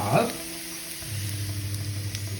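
Fresh coconut is tossed into a pan of Bengali-style ingredients and mixed, giving a steady low frying sizzle with a brief burst of stirring at the start, close and moderately loud with no talk.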